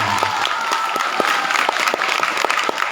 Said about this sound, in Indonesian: Kok udah tepuk tangan?